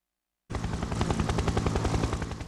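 A helicopter flying over fires in the video game Fire Heroes: a close, rapid, rhythmic rotor chop that starts abruptly and continues steadily, with no voices.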